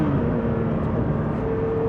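Porsche 911 S/T engine in the cabin as the driver changes down to third: a steady, loud drone throughout with a tone that shifts partway through, nobody talking.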